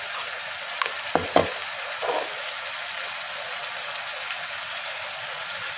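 Tomatoes with turmeric fry in a pot with a steady, close sizzling hiss, broken early by a few sharp clinks of stirring.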